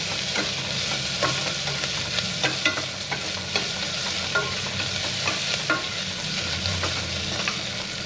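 Onions frying with ginger garlic paste sizzle steadily in a pan for pulagam, with a spoon stirring and scraping in close, continuous strokes throughout.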